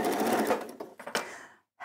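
A home sewing machine stitches in a rapid whirring run for about a second and a half, then slows and stops briefly before starting again, close and clear with no talk.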